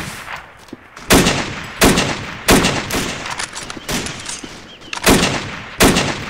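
Bursts of gunfire in an Arma combat battle, roughly seven loud, sharp volleys spaced about a second apart, each crack trailing into a brief echo with no talking between them.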